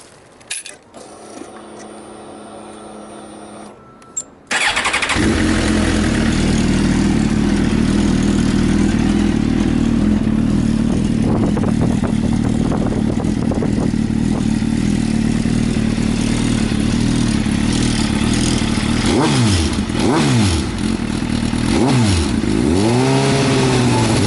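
Suzuki GSX-R 1000 motorcycle with an aftermarket exhaust starts after brief handling noise, then settles into a loud, steady idle with several sharp throttle revs near the end, close by and alone.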